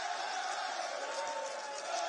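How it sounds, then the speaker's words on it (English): Stadium crowd at a Caribbean club championship football match, Waterhouse FC vs Violette AC, a steady roar of cheering voices held at even loudness for a couple of seconds. "And the assembled crowd loves it."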